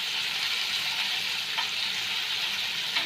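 Stuffed squid fries in a pan, Goan style, giving a dense, even sizzle that stays steady throughout, close and fairly loud, with no speech.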